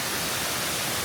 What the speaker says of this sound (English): Here it is, Kuang Si Waterfalls.